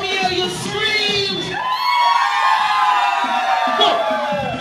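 A crowd at a Jamaican dance event screams, whoops and cheers loudly and continuously, with children's high shouts mixed into the sustained roar.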